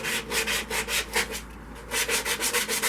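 Sandpaper rubbing against a green poplar wood bowl spinning on a lathe, with close, rhythmic whooshing strokes repeating roughly every fifth of a second, interrupted by one short pause.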